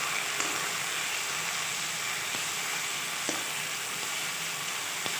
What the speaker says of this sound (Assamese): গোটেইখিনি আকৌ ভাজি ল'ম অকণমান।